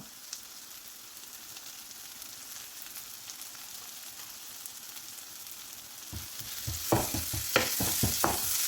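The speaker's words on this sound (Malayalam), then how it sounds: "എന്നിട്ടൊന്ന് ഇളക്കി കൊടുക്കാം. ഇതിവിടെ ഉള്ളിയെല്ലാം വഴന്നു വരുന്നുണ്ട്." Onions and tomato sautéing in a pan for potato masala: a steady hiss of frying, then louder spoon scrapes and clatters as stirring begins near the end, up close with no voices.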